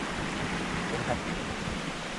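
A small natural waterfall in a mountain stream gives a steady, broadband rush of falling water, constant and fairly close, with no other distinct sounds.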